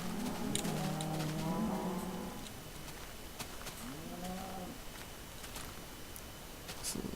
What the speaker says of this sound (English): There's all my cows.